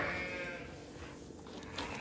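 Sheep on a farm on a winter day let out a bleat that rises and fades over a low background, followed by quieter stirring.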